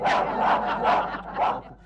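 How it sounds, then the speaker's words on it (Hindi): A dog barks several times in a row, a steady run of close, moderately loud barks with no other sound over them. "कुत्ते की भौंकने की आवाज तुम्हारे खर्राटों जैसी लग रही है।"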